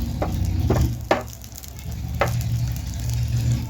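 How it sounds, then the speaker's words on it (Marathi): Ginger, garlic and green chillies sizzle in hot oil in a pan, a steady close crackle broken by a few scraping strokes of a stirring spoon. "अद्रक, लसूण आणि हिरवी मिरची अगोदर आपल्याला तेलामध्ये फ्राय करून घ्यायची आहे"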